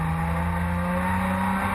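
A saloon race car's engine drones on track at the 2010 Speedweek meeting, a steady, loud, buzzing tone held for a brief moment without gear changes or voices.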